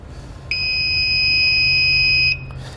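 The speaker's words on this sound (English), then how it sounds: "I'm going to take my circuit tester and I'm going to test that center pin to make sure I am getting power to it" A circuit tester touched to the center pin of a Jeep Wrangler's tow connector gives one loud, steady high-pitched electronic beep lasting just under two seconds.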